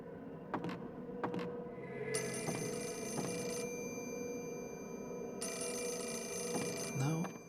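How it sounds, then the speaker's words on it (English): A telephone rings in the Fatal Frame 4 video game, two long trilling bursts of ringing over a low ambient hum, with faint voices in the background. "we should make sure to pick up this phone call."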